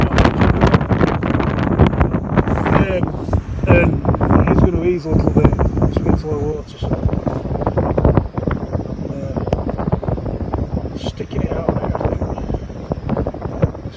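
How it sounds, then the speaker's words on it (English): Strong wind buffets and roars across the microphone while a person talks steadily over the gusty noise. "It's too windy to spin round into wind. It's absolutely blowing a hoolie."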